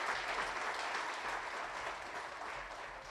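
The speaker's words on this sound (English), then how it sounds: "Let's give our Paralympic athletes a round of applause." An audience at the official launch of the Region 5 Youth Games in Windhoek applauds Paralympic athletes, a steady, dense wash of many hands clapping with no break.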